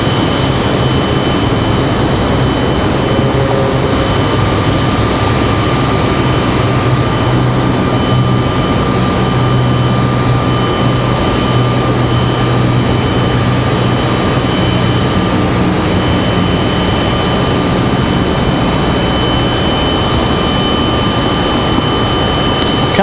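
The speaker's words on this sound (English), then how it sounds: "We also have a Delta A319 headed out to the end of the runway, getting ready to leave." A Delta A319 jet airliner heading for the runway at Raleigh Durham airport gives off a continuous, even jet-engine roar with a faint steady whine, heard from a distance and unbroken for the whole stretch.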